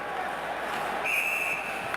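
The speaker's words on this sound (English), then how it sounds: "And play is whistled down." A referee's whistle cuts through crowd noise at an NHL hockey game between the Toronto Maple Leafs and Buffalo Sabres, a single sustained shrill blast halfway through over steady arena murmur.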